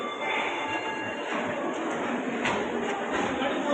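A Hassan-bound train rolls steadily along the rails, a continuous metallic rumble with faint squealing wheels and occasional clanks, close and loud throughout.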